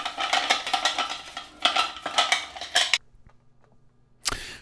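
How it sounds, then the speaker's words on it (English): Steel wheel bolts are stirred around in a container of strong degreaser, making a rapid, rhythmic metallic clinking and rattling for about three seconds. After a pause of near silence, one more short clatter follows. "I'll put all the bolts into this strong degreaser, like so, give that a stir around"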